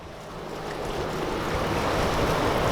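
Steady rain falls outdoors in Texas, a dense, even hiss that swells gradually louder and stays unbroken throughout.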